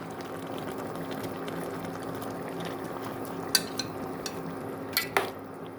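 Eggplant pieces boil in a vegetable sauce for pickling, giving a steady, close bubbling hiss throughout, with a few small clinks toward the end.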